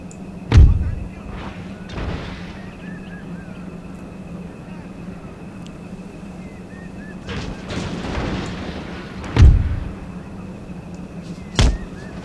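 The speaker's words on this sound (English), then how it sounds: "I wonder if his mortars are flying over now, or whether they're going for my artillery, my howitzers." Mortar fire in the video game Empire Total War: three heavy, distant thumps land several seconds apart over a steady low battlefield hum, with scattered lighter shots between them.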